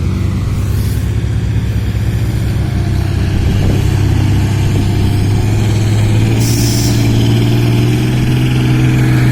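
A farm vehicle engine runs steadily out in a rice field, a loud continuous low rumble with a chugging, popping beat throughout and no voices.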